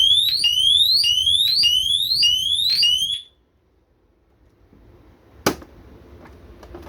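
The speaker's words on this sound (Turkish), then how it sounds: "alarmını öttürecek, çaldıracak" A home alarm system siren, triggered by a motion detector, wails loud and electronic in repeated rising sweeps for a few seconds, then cuts off, leaving low background noise and a single sharp click.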